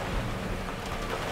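Rain drumming on a Citroen Ami microcar, a dense, steady patter of drops on the small body and windows, close and continuous with no voices.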